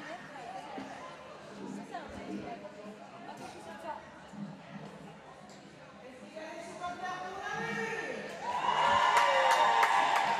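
A roller derby crowd in a hall between La Boucherie de Paris and Namur Roller Girls chatters and cheers, then swells into loud whooping and shouting near the end, with voices talking throughout.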